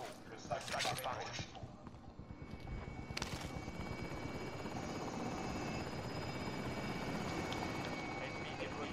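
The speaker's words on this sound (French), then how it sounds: "Hélico en position pour votre dépôt." A helicopter in the video game Call of Duty: Modern Warfare produces a continuous rotor thrum that grows fuller and steadier after the first few seconds, while voices speak over the early part.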